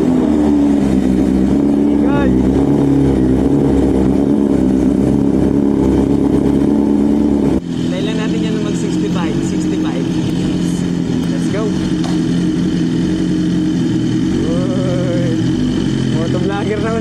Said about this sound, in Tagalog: Tara, i-cold start na natin. Medyo maingay nga lang to.